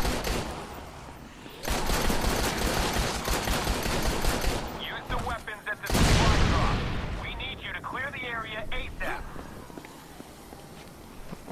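Handgun fire and combat action in the zombie game Dead Rising 3, with dense bursts of loud shots and chaotic gameplay noise, a brief quiet gap, then a sharp blast and further clatter under a talking player.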